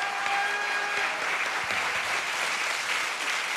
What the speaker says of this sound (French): je vous propose d'applaudir bien fort aujourd'hui